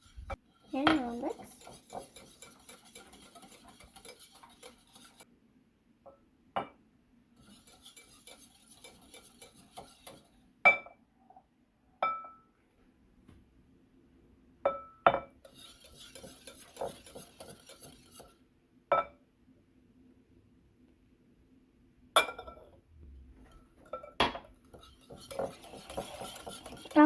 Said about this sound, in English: I'll mix until all the ingredients are well mixed together.